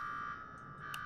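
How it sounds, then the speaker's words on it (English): A low-power base alarm in the Fallout 4 video game drones as a steady, fairly quiet electronic buzz with a brief high blip near the end. "Get used to that alarm, because you're going to be hearing it for a bit"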